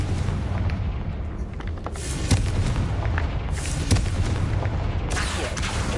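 Repeated booming blasts from the Confringo fire spell in Hogwarts Legacy, several dull explosive bursts landing over a steady rumbling backdrop, loud and close, with no talking.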